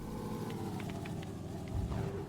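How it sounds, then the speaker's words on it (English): Vehicle engines, including a buggy, in an online virtual world video game give a faint, steady low rumble with a few soft clicks over it. "But then I heard the sound of engines."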